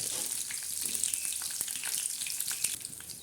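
Curry leaves hit hot oil for a tempering, giving a close, steady sizzle with sharp crackles and pops throughout, with no voices.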